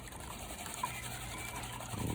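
Water poured and sloshed off a gold pan while panning for gold, a steady soft trickle close by with no talk.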